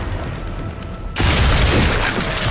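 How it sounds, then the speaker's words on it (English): A single loud, booming rifle shot from the video game Sniper Elite 4, breaking sharply out of quiet background and leaving a broad ringing tail. "I'm just gonna shoot him."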